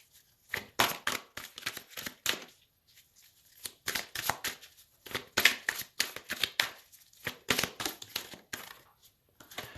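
Playing cards pulled one by one from a deck during a reading, a series of crisp, dry snaps and rustles coming in short clustered bursts with quiet gaps, close and fairly soft.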